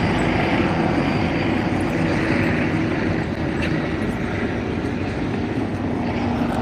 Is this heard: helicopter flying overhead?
yes